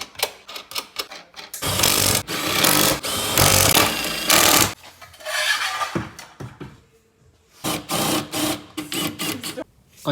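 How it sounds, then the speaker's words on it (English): A power drill whirs in loud, sustained runs with short stops between as new mounting holes are drilled in a Nissan 240SX, then a series of brief rapid bursts near the end. "So now time to drill new holes and then design new mounts."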